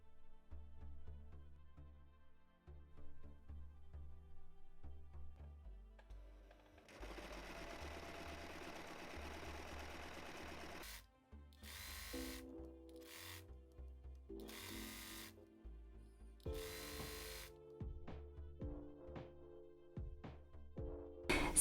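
A sewing machine stitches a facing to a jumpsuit neckline in bursts of steady whirring runs, with short pauses and a few sharper mechanical clunks between the seams.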